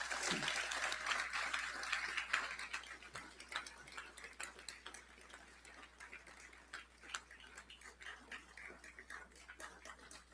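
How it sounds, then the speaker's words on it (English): An audience at an Honors Day convocation applauds, the clapping dense and lively at first and then thinning into scattered, fading claps, with some faint voices underneath. "give them a round of applause"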